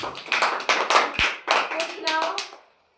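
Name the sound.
children clapping hands after a poem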